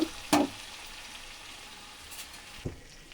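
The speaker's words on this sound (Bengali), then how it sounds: "পাঁচ মিনিট ধরে অল্প মাছে ভেজে নিয়েছি মাংসটাকে" Meat frying in a little oil in a wok, a soft steady sizzle with a couple of brief clattering knocks from the pan.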